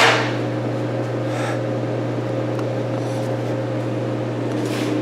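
A BestArc BTC500DP plasma cutter slices thin 18 gauge metal, giving a loud, steady hissing buzz with a constant low hum that runs unbroken for about five seconds, with no talking.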